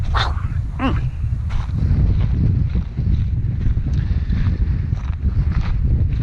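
Cold wind buffets a microphone on the 14,636-ft summit of La Malinche volcano in Mexico, a steady, loud low roar and rumble throughout, with a few brief higher whining squeaks near the start.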